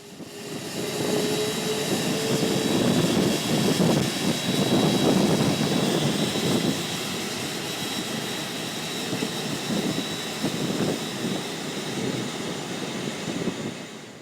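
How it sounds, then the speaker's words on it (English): An Airbus A380 super jumbo taxis past close by after landing, its engines producing a steady, loud broadband rumble and whine that swells and slowly eases as it rolls along the taxiway. "After it landed, the A380 taxied right by us."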